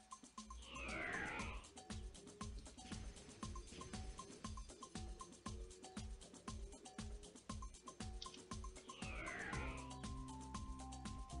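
Cat meows in the video game Ragnarok Online sound over looping game music with rhythmic beats and sweeping chimes, the meowing faint within the steady mix.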